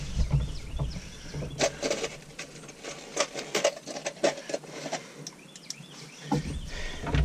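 Screws are driven during restoration of a shift indicator on a 1976 GMC Jimmy, giving a sequence of whirring power-driver bursts in uneven rhythm, fairly close and with no talk.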